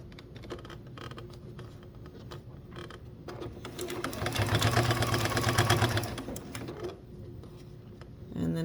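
A sewing machine stitches a seam on a brush roll made from a vintage quilt, its rapid mechanical whir building for a couple of seconds among quieter handling sounds.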